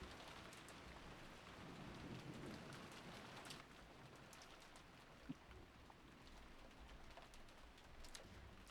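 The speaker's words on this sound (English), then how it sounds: "Rain, rain, go away." Steady rain from the Umineko video game falls in a continuous patter with scattered drop hits and a faint low rumble, no voices over it.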